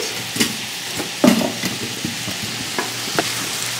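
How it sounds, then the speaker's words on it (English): Tofu fries in a pan with a little vegetable broth, a steady soft sizzle broken by scattered scrapes and knocks of a utensil stirring, close up with no talk. "All right, so I put my tofu in the pan. I'm gonna put a tiny bit of veggie broth just so it doesn't stick to the bottom"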